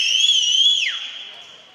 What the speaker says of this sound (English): we hear an ear-screeching whistle for the third time today